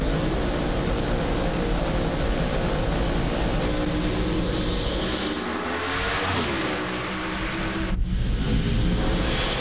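An alcohol funny car drag race run at Topeka, a loud sustained roaring engine filling the whole stretch, with a brief dip and swell in the roar near the end, no speech.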